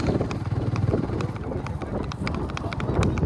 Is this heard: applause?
no